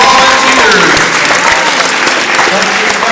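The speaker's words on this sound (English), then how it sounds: "a big round of applause for our" Audience applause breaks out for hypnotism show volunteers, a loud sustained crowd clapping that fills the room, with a few voices and whoops mixed in.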